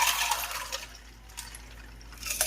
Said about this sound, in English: Pour it.